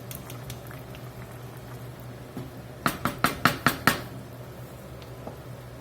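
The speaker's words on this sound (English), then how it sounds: "Let that sit there and low simmer and get happy for a little while, about 20 minutes" Spicy pork pastalaya simmers in a pot, with a quick burst of five or six sharp popping bubbles in the middle over a low steady background hum, near and otherwise quiet.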